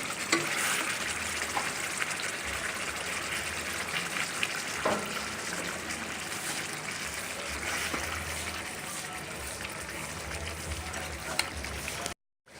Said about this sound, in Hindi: अभी 10 मिनट तक मीडियम हीट में पकाएंगे।